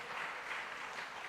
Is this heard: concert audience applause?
yes